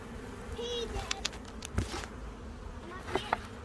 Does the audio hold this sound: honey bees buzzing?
yes